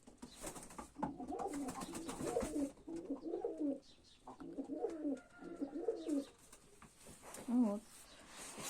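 Pigeons cooing in repeated soft, throaty phrases, close by, with short pauses between calls and some light rustling.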